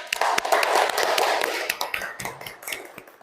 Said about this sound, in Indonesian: tepuk tangan untuk Mbak Mili